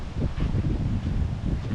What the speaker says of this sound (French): mais il y a énormément de vent